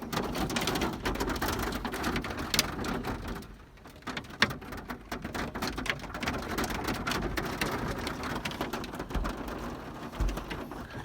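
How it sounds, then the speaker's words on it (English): Hail pelts a campsite at Lake Wikiup in La Pine, Oregon, a dense continuous patter of hailstones drumming on surfaces, with a short lull partway through before the hard clatter resumes. "Crazy hailstorm just hit us."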